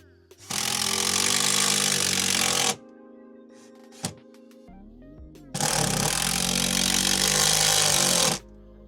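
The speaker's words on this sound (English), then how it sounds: "You're gonna put your screws in your drill bit and you're gonna drill out the designated areas next to the foot pump into the base." A power drill drives screws into the base of a Companion in-unit sink next to the foot pump. It makes two long, loud, steady bursts close by, separated by a quieter pause.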